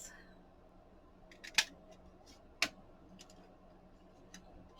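Small scissors cutting buttons out of a little piece of paper or card: two sharp, isolated snips about a second apart against quiet room tone, fairly close and faint overall.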